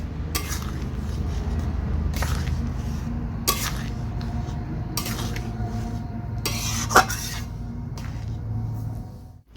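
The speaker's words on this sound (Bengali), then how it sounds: "সব কিছু ভালো করে মিশিয়ে দিচ্ছি।" Rajma mixed with garam masala in a pan makes a continuous close scraping and stirring, with a few sharper clanks of the spoon against the metal along the way.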